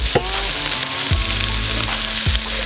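Chopped bell pepper, yellow onion, celery and green onions sizzle steadily in a pan for crawfish jambalaya, a continuous close frying hiss broken by a few soft scrapes or knocks and no voices.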